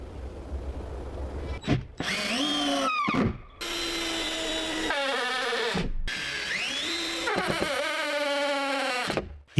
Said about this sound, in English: He is using a drill machine to assemble the pieces of wood to create a sturdy structure